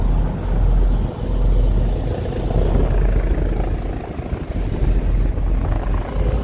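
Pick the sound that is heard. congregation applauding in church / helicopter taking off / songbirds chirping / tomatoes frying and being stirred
helicopter taking off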